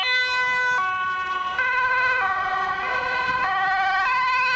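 An electronic toy ambulance siren alternating between two tones in a steady hee-haw pattern, loud and close, with no talking.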